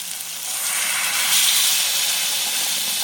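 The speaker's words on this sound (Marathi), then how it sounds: "यात आपण गरम पाणी सोडणार आहोत." Hot water poured into a pan of frying matki misal masala sets off a steady, loud sizzling hiss that swells around the middle and keeps steaming throughout, with no voices.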